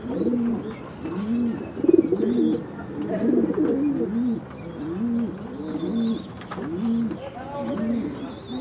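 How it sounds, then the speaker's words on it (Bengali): Domestic pigeon cooing repeatedly in a steady, rhythmic series of low throaty coos, close by and clear, with faint chirps from other birds in the background. "একদম একই একটা কবুতর"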